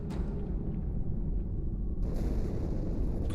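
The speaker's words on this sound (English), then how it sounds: "Die Explosion kam aus dem Innern der Athen, genau wie bei der Malta." Deep, sustained rumble of a ship exploding from the inside in Halo 2, a heavy low roar that holds steady and then shifts in texture partway through, with no voices over it.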